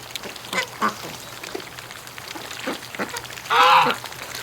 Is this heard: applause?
no